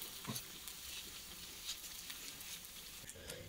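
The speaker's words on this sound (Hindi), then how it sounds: "इधर पहले गर्म ऑयल में जो कूट के रखे थे अदरक लहसुन और हरी मिर्च को उसे डाल दिए।" Crushed ginger, garlic and green chili sizzle in hot oil for a street-style samosa filling, a soft steady crackle with a few brief pops near the start and end.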